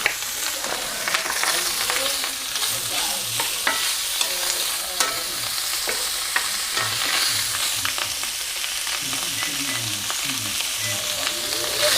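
Bacon fries in a hot pan with a loud, continuous sizzle and crackle, broken by repeated scraping and stirring strokes that grow busier toward the end.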